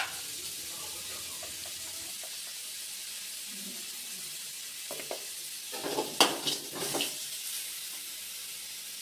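Egg biryani masala with turmeric and salt sautés in a pan with a soft, steady sizzle, and a few louder stirring scrapes come toward the end.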